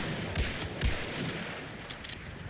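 Cycler Rifle shots in a video game, a few sharp broadband cracks spaced irregularly over a steady hiss, moderately loud and close with no talk.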